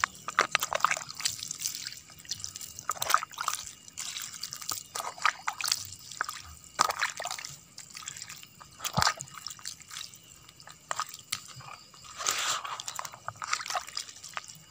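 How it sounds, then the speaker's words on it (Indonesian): Water drips and splashes intermittently onto tomato and chili plants and soil, with scattered trickles and pours at an irregular rhythm, close and fairly quiet. "kita siram-siram yang tomat juga kita siram yang cabai juga kita siram"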